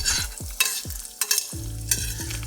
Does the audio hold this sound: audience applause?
no